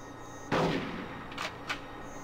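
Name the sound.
gunfire from a gun in the video game Conker's Bad Fur Day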